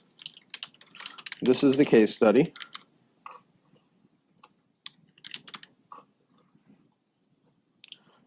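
Keys clatter on a computer keyboard in scattered bursts of quick clicks across several seconds, with a brief stretch of speech early on and quiet gaps between typing runs.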